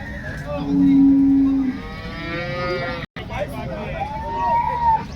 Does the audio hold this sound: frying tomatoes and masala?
no